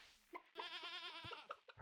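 A goat in a farming video game lets out a single drawn-out wavering bleat, clear and close, framed by a few short clicks and taps.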